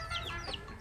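Native country chickens at a house cluck in short, close bursts, a few quick calls over steady low background noise.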